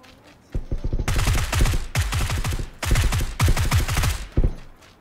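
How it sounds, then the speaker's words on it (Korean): Rapid bursts of automatic gunfire in the PUBG battle royale game, in four loud, closely spaced strings of shots separated by short pauses, with no talk over them. "아, 지금 총소리 있어요."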